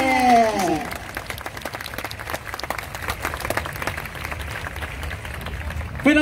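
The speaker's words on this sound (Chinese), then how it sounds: "最后再一次掌声给他们" A live audience at the River Hongbao 2020 Chinese New Year show in Singapore applauds performers of a Xinyao song medley with folk instruments: dense, steady clapping for several seconds after a brief spoken line at the start, swelling again near the end.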